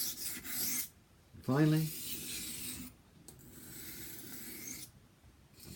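A kitchen knife is stroked across a 220 grit whetstone, giving rough rasping scrapes in a few separate passes with short pauses between them. A voice briefly speaks a single word.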